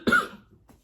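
A single short, dry cough, close and fairly quiet, followed by a faint breathy sound.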